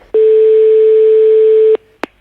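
A telephone ringback tone plays while a call is being placed: one long, steady, loud tone runs for over a second and a half, stops abruptly, and a sharp click follows a moment later.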